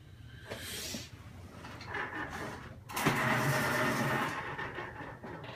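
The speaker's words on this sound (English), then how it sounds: "Sorry for constantly sharpening the pencil." A pencil is sharpened in an art room, the grinding, scraping rasp coming in uneven bursts close by and fairly loud, with a stronger stretch of shaving near the end.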